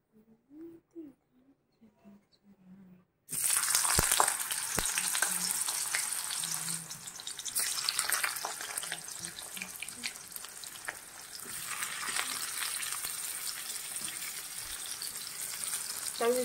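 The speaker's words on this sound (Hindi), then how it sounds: "तो पहले इसे फ्राई कर लेती हूँ।" Fish frying in a pan for a home-cooked lunch, a steady loud sizzle and crackle starting after a few seconds of quiet and continuing without pause, with brief faint voice beforehand.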